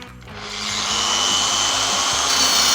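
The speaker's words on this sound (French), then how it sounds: "Il faut poncer perpendiculairement" Car headlight lens being sanded by hand across its curve, producing a loud, continuous abrasive rasp with a fast rhythmic scrubbing pulse throughout, no voices.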